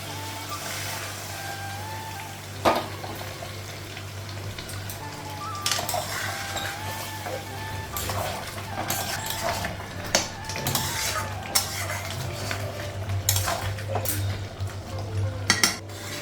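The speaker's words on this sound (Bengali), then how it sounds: "মাংসটা ভালো করে কষানো হয়ে গেছে" Meat for Bengali kosha being stirred and scraped in a pan, with a steady run of metallic clinks from the utensil against the pan over a constant low hum, fairly close and without talk.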